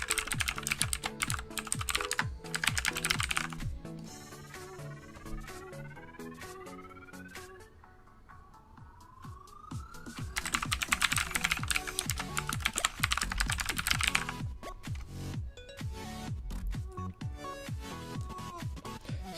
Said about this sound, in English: Can you type your email?